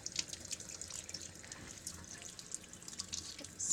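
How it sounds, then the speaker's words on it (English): Fresh churned butter is kneaded by hand, squishing out buttermilk in soft, wet squelches and little drips. The sounds are quiet and close, with no talking. "It'll squish out all that excess buttermilk."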